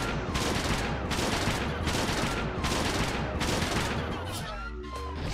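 Rapid bursts of gunfire in the video game Lisa the Joyful, a dense sustained barrage of shots in several rhythmic waves that thins out near the end.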